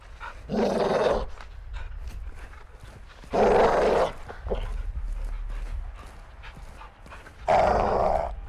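A caged dog in the Modern Warfare 2 campaign growls in three deep, rumbling bursts separated by quieter ambient gaps, fairly close and without speech.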